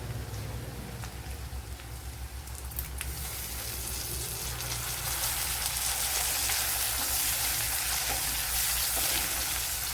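Curry leaves and green chillies frying in a pan give a steady, dense sizzle and crackle, with a brief louder burst as they hit the hot oil, then an even hiss throughout.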